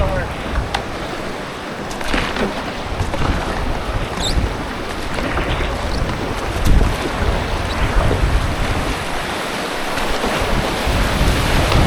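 A kayak paddles along Clear Creek amid continuous rushing water, splashing and wind buffeting the microphone, loud and close throughout.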